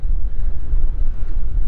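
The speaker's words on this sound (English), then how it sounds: "it is windy today" Wind buffets the microphone on a fishing boat out on a Manitoba lake, a loud, continuous low rumble for the whole moment with no speech.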